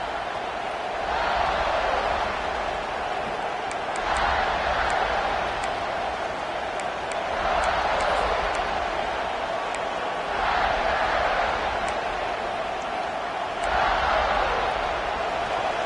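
Stadium crowd noise in the college football video game College Football 26, LSU versus Miami: a continuous roar that swells and recedes in repeated waves, loud and sustained, with occasional sharp accents on top.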